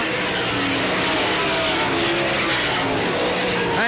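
Race cars at Selinsgrove Speedway roar steadily with a dense, loud engine drone and rising whines as they circle the dirt track, and the noise stays constant with a faint voice mixed underneath.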